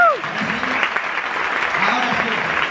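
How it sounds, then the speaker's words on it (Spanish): Applause from an audience at a series preview screening at a festival, dense sustained clapping filling the room with a few whoops and voices rising over it. "a ver, ¡un aplauso!"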